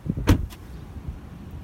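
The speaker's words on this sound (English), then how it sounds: "Now shut the door," A Range Rover Velar door swings shut with one firm, close thud, followed by a faint softer knock and then quiet background.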